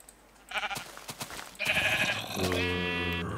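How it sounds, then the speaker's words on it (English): Black sheep in the Minecraft video game bleating several times in a row, close and clear, with short wavering calls that start with a few brief bleats and end in a longer drawn-out one. "Oh, black sheep."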